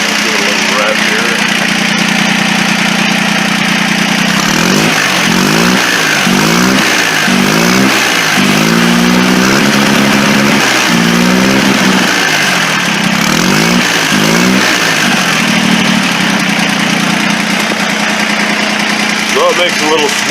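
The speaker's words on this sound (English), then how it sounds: "I'll give it a little rev here." A modified turbocharged garden tractor engine idles loudly, then revs through a series of rhythmic rising-and-falling throttle pulses at close range before dropping back to a steady idle.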